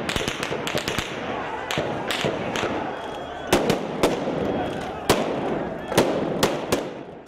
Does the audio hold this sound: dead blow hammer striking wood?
no